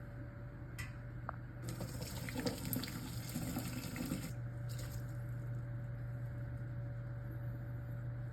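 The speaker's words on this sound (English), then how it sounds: "just go ahead and pour that liquid in" Broth pours and splashes steadily through a strainer into a pot, a continuous watery rush with a low hum underneath.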